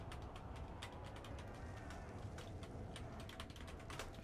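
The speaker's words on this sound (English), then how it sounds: "And I realised I was typing." Steady, rapid clicking of keys on a computer keyboard, continuous close-up tapping at an even, busy pace against a faint background hiss, with no voices.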